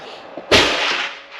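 A single sharp, loud gunshot from a Springfield Hellcat RDP pistol fitted with a compensator, cracking suddenly and then ringing into a long echoing tail at an outdoor range.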